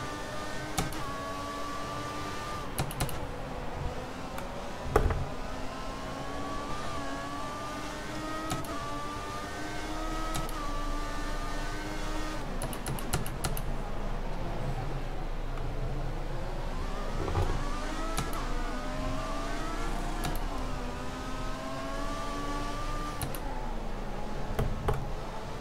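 A Formula 1 racing car engine in F1 2014 howls at full throttle, its pitch climbing and dropping through repeated gear shifts in a steady, continuous drone.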